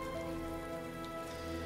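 Steady, dense rainfall in the Heavy Rain video game, a constant wash of falling drops on surfaces at low level with a faint droning tone beneath and no break throughout.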